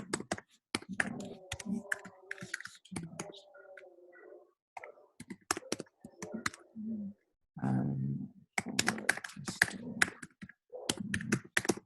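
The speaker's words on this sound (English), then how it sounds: "I can't talk and type at the same time." Bursts of rapid keyboard typing, clicking keys in quick irregular runs with brief pauses between them.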